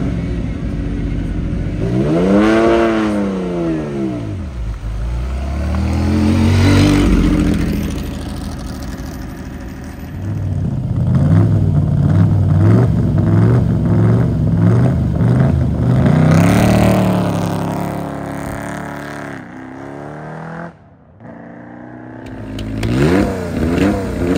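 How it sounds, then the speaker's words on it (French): A Lancia Stratos rally car at the Tour Auto revs hard through rising and falling sweeps, then settles into a pulsing idle with sharp blips, loud and close, before a final burst of throttle. "La mythique Lancia Stratos."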